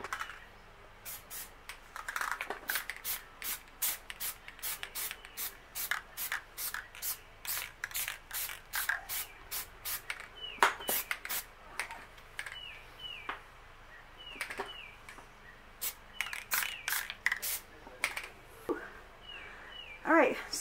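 Plasti Dip aerosol being sprayed onto a Dodge Charger spoiler in many quick short bursts of hiss at a close distance, with shuffling and small handling noises between them and later some longer pauses.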